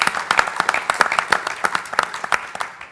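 An audience at a panel discussion claps for the moderator and panel, with sharp individual claps in an uneven rhythm that slowly thin out.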